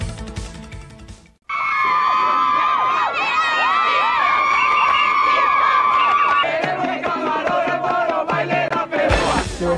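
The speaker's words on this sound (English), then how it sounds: "Everybody is cheering." Loud, sustained crowd cheering and shrieking fills an arena at the 1997 World Aerobic Championship finals, rising abruptly after a brief quieter moment and holding steady, with high excited voices and whoops throughout.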